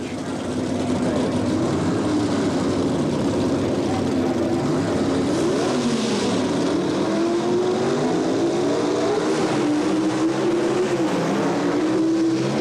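Drag racing cars launch in a 1977 NHRA Springnationals handicap eliminator race, a loud sustained engine roar with rising, wavering pitch as the cars accelerate away, dense and unbroken throughout.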